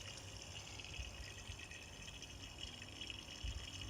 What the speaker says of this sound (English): now let's turn on the water pump and see what happens